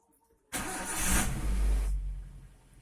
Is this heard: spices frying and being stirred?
no